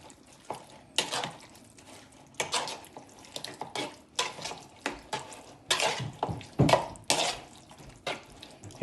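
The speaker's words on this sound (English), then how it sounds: "Give it a stir." A honey beef marinade is stirred in a bowl, making a series of irregular wet sloshing and scraping strokes, each one short and fairly close. The strokes stand out against a quiet kitchen background with no speech.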